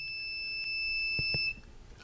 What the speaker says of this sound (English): I have a buzzer that goes off.